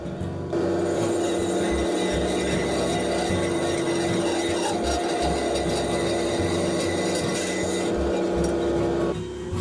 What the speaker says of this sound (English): Let's start this project by cutting the rebar to 6 inches long.